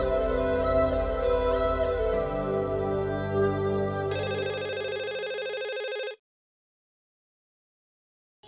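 An outgoing phone call rings on a handset, a steady repeating ring tone that plays for about six seconds, loud and close, then cuts off into silence.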